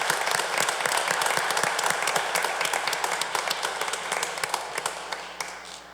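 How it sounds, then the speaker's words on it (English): An audience at a county board of commissioners meeting breaks into sustained applause, a dense wash of many hands clapping that gradually thins toward the end, with no talking over it. "Let's give them a round of applause."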